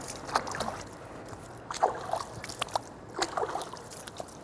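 Water splashing and dribbling as arms are washed up to the elbows during ritual ablution before prayer, faint intermittent sloshes and trickles at close range.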